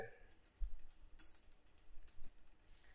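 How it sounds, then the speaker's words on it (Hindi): Faint, quick clicks of keys being typed on a computer keyboard, scattered irregular taps close to the microphone in a quiet room. "कुछ टाइप करते हैं यहाँ पे कीबोर्ड से"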